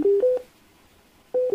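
A short electronic chime of clear steady tones, two quick beeps, a pause, then two more, as Eggel Active 2 Pro wireless earbuds announce they have powered on.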